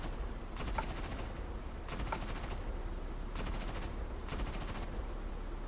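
Short bursts of automatic gunfire from DCS World come in four separate rapid rattles spaced about a second apart over a low steady hum, with no talk.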